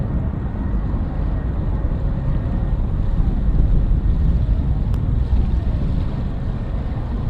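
An Atlas V rocket engine burns during a launch from Cape Canaveral, a loud continuous rumbling roar with a wind-like hiss, steady and unbroken throughout.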